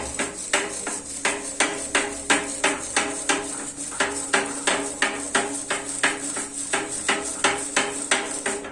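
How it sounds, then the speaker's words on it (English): A stiff brush scrubs the sprockets of a bicycle cassette up close, giving a steady run of sharp scraping strokes, roughly two per second, with no talking. "So I scrub from the top."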